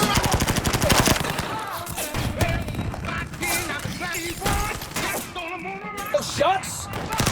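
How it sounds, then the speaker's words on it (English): Rapid machine-gun fire and gunshots crackle through an action-movie battle scene from The Expendables 2, with dense bursts at the start and scattered shots afterward under tense, shouted dialogue. "Oh, shots?"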